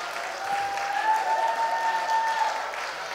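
Church congregation applauding, a steady wash of clapping at moderate volume from a crowd, with a faint sustained tone running beneath.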